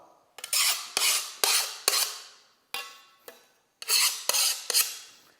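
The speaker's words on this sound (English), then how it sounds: "And then there you can use a common mill file." A common mill file is drawn along the edge of a glass plate in about nine rough rasping strokes. The strokes come close and loud in an uneven rhythm, with short pauses between them and no talking.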